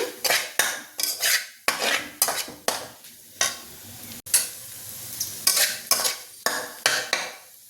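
Egg fried rice tossed and stirred in a hot pan, with a steady rhythm of loud, close metal spatula scrapes and clanks over a continuous sizzle, repeating roughly every half second.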